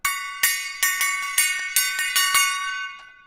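A gong rings out in a bright, metallic series of about eight quick strikes, each leaving a shimmering tone that hangs and slowly fades, loud and close with no talking.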